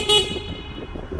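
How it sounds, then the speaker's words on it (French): A short horn beep from a LAOTIE ES19 all-terrain electric scooter, sounded in a tunnel: one bright, near toot lasting a fraction of a second, followed by faint background noise. "comme un klaxon de scooter, de bagnole quoi"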